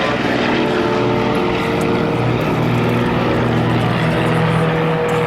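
Northern Lights team aircraft take off together in a tight diamond formation at a 1997 military air show at Quonset ANGB, a loud, steady propeller drone with layered engine tones throughout.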